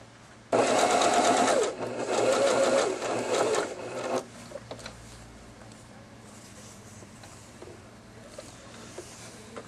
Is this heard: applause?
no